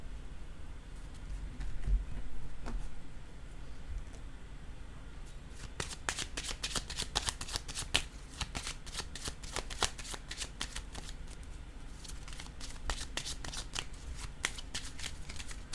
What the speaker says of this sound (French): Je vais déposer une autre carte sur le mot « viol ».